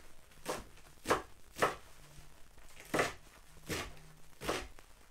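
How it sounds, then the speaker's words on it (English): Stinging nettles, twisted into a bundle, are rough chopped with a knife on a board, giving about seven crisp, evenly spaced chops close up with no talk. "I like to get them all lined up and kind of twist them up for better rough chopping"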